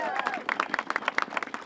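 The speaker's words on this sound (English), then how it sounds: "how about a nice round of applause for Tanya Del Rio?" Scattered claps from an audience at a bridge dedication ceremony, a short, uneven patter of hands mixed with murmuring voices nearby.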